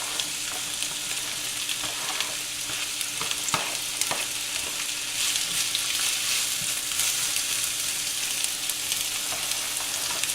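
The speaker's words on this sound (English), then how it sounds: "we want to saute our vegetables. So I'm going to put the peppers in. And the mushrooms." Sliced peppers and mushrooms saute in a hot pan, a steady moderate sizzle broken by occasional clinks and scrapes of a utensil stirring, with no talking.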